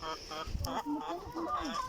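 A hen clucks after laying an egg, close and moderately loud, a run of repeated cackling calls with short gaps.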